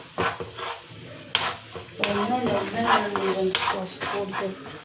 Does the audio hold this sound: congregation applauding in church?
no